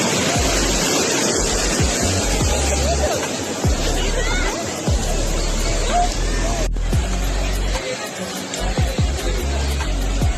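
Sea waves surging onto Digha beach, a loud continuous wash of surf with repeated breaking crashes, mixed with crowd babble and wind from a busy shoreline.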